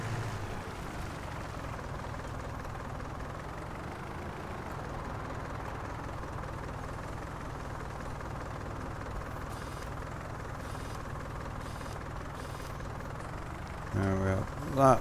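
A tractor engine idles steadily in Farming Simulator 19, with a constant low drone and a few louder knocks and clunks near the end.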